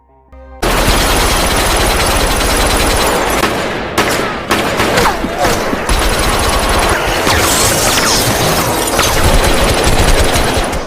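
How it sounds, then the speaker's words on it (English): Dense automatic gunfire and rapid shots crackle through a film shootout, with sustained bursts and booming impacts filling the scene loudly and continuously, no speech. "Sun Woo rises back up and then shoots everyone."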